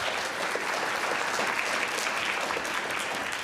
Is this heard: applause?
yes